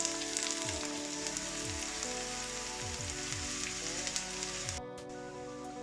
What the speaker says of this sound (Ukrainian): Всипаємо цибулю і смажимо до золотистого кольору.